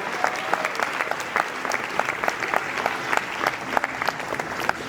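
A theme-park crowd at an Animal Kingdom bird show claps for a volunteer, a steady patter of many hands at moderate distance, even in level from start to finish.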